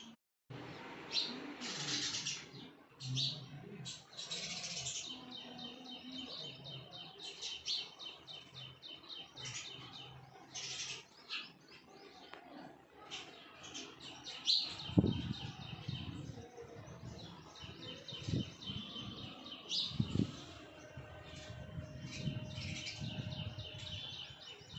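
Small birds chirp and tweet in scattered bursts alongside soft pigeon coos on a breezy, hot day in Gandhidham during lockdown, moderately close with wind rustle and light background noise throughout.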